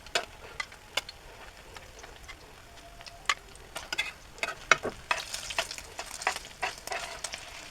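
Vegetable rolls frying in hot oil in a home kitchen, with a steady soft sizzle broken by sharp crackles and pops, plus occasional light stirring clicks close by, and no talking.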